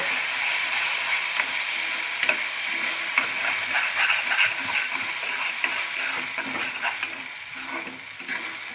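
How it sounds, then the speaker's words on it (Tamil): A spoon scrapes and stirs through a sizzling pan of okra buttermilk curry (vendakkai mor kuzhambu), with steady frying hiss and irregular soft clinks throughout, close by. "நல்லா மிக்ஸ் பண்ணி விடுங்க"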